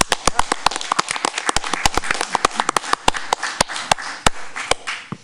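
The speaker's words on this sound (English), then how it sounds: "let's give Mustafa and Janelle another round of applause" A small gathering at a board meeting claps for two honored students, Mustafa and Janelle, with sharp, irregular handclaps from a modest group, close and distinct, tapering off after about five seconds.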